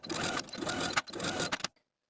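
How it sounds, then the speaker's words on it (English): A sewing machine stitches along the inner folded edge of a rolled sleeve hem on a peplum blouse, running in a steady whirring burst with brief pulses before stopping abruptly into silence. "take it to your sewing machine and sew right along this inner folded edge"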